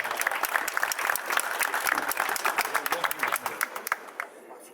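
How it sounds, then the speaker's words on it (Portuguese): Crowd at Maracanã applauding a Brazilian football idol, steady dense clapping across the whole stretch that thins toward the end, with a voice speaking over it. "Vamos aplaudir esse ídolo do futebol brasileiro, pessoal, e também internacional."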